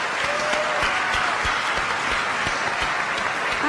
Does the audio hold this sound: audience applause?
yes